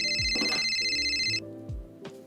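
A telephone rings with a bright, steady electronic ringtone for over a second, then cuts off, while low swooping tones sound in the background during a French comedy show.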